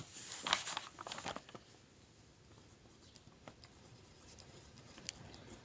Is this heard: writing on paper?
yes